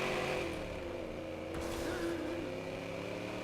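Car in the video game Watch Dogs driven with its handbrake engaged, giving a steady strained engine drone with a dragging, labored tone throughout, no talking over it.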